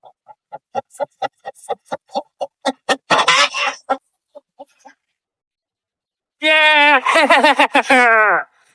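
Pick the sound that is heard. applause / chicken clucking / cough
chicken clucking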